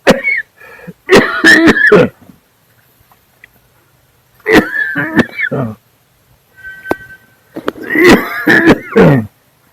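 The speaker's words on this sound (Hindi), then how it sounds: "एक खांसी" Repeated harsh coughs and throat clearing come in bursts close to the listener, separated by brief quiet pauses.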